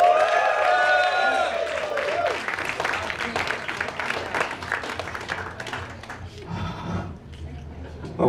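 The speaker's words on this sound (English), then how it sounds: "Give yourselves a round of applause, people." A church night crowd applauds and cheers, with clapping and scattered whoops over a voice at the start, then thinning hand claps that fade toward the end.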